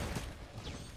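Rapid crackling pops and bursts of fireworks in the video game Risk of Rain 2, dense and fairly loud across a second, with a faint rising whistle partway through.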